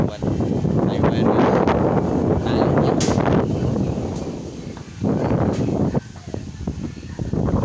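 Strong wind buffets the microphone outdoors in a continuous loud roar that swells and dips in gusts, dropping briefly before surging again.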